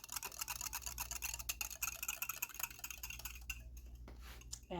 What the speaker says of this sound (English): And I just whisk it up with a little bit of milk so that it disperses well.